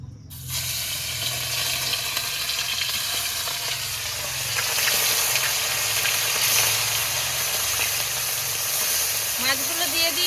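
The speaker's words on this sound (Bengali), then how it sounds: "কড়াইতে তেলটা গরম হয়ে গেছে, একটু নেড়ে চেড়ে মাছগুলোকে ভেজে নেব" Bata fish rubbed with salt and turmeric fries in hot oil in a wok, giving a steady close, dense sizzle that runs unbroken throughout with faint stirring beneath it.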